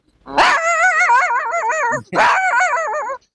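A voice imitates a puppy's barking in two drawn-out, wavering yelping bursts with a short gap between them, loud and close, performed as mimicry.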